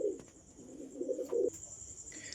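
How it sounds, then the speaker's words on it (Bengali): A Lahori female fancy pigeon coos once in a low, soft, throaty burst lasting about a second, close by, with a faint steady high hiss underneath and no talking. "এই একটা পায়রা দেখুন বন্ধুরা, লাহুরির ফিমেল আছে"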